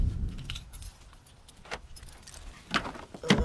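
Keys jangle in short bursts as a car is unlocked, close and fairly loud, with quiet gaps between the metallic rattles.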